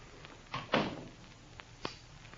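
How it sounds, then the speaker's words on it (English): A stateroom door closing aboard a ship, one soft thud followed by a few faint knocks and clicks in a quiet room. "Close the door, Captain."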